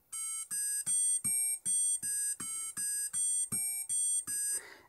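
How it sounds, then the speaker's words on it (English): Electronic tones from a homemade Arduino penny organ play a repeating arpeggio, about a dozen short, evenly spaced square-wave notes stepping in pitch, loud and clean with no talking. "if I play my arpeggio slightly differently,"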